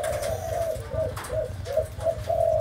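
Pigeons in a breeding loft coo steadily in repeated low, soft phrases close by, a continuous overlapping chorus with no talking.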